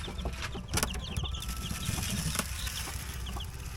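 Small chicks on a backyard Filipino farm, a scatter of thin, repeated high peeps over a steady outdoor background, with occasional clucks and wing flutters from the birds nearby.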